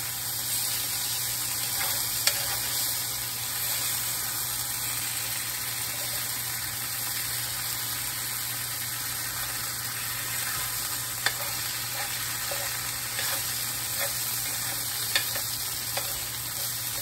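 Home-canned garden squash fries Southern style in a pan with onions, giving a faint, steady hissing sizzle throughout with occasional small pops and crackles.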